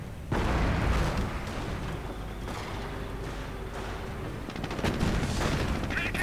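Anti-tank guns fire in a WWII strategy game, a dense, rumbling din of battle with overlapping booms and gunfire, a few sharper bursts near the end.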